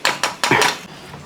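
A metal pan and utensils clatter during cooking of fried chillies, four sharp clinks and knocks in quick succession, close and fairly loud, then quiet.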